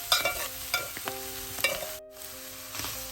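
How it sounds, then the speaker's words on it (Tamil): Thick fish cutlet mixture with mashed potato stirred in a bowl, several irregular scraping, sloshing strokes close by, with a brief quiet gap midway and no voices. "இனிமே இதையெல்லாம் நல்லா கலந்து விடுவோம்."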